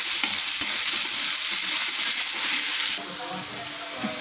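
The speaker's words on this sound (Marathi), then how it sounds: "त्यामध्ये आपण दोन बारीक कांदे चिरून घेतले, ते मस्त गोल्डन रंग होईपर्यंत आपल्याला तळायचे।" Two finely chopped onions fry in oil in a pan for a Maharashtrian suka zinga bhaji, giving a steady, close sizzle that is stirred now and then and drops slightly quieter partway through. No one speaks.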